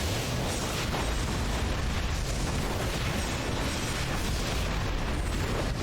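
Bombs detonate in the strategy game Command & Conquer: Red Alert 3, filling the moment with a dense, continuous roar of blasts and rumbling debris, loud and broadband without any clear pause.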